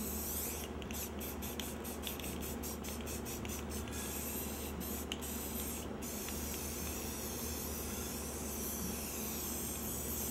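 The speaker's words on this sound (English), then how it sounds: "Always spray the edges normally first," Rust-Oleum Painter's Touch black spray paint hisses continuously from a nearby can, with a quick run of short stuttering bursts early on and then a long steady spray, without any speech.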